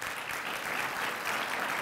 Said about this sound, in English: So please, a round of applause for Jason Boselman.